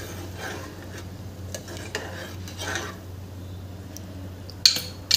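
Soaked rice is stirred in a cooking pot for jeera rice, giving soft scraping and gentle clinks of a spoon against the pot, quiet and intermittent over a steady low hum, ending with a couple of sharper knocks.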